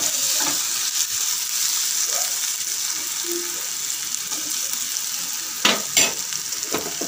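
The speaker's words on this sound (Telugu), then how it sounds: "కొద్ది ఒక టూ మినిట్స్ బాగా ఇలా వేపాలన్నమాట చేసేసేయాలి" Fenugreek leaves frying in a pan give a steady close sizzle throughout, with occasional stirring scrapes and a couple of louder clatters near the end.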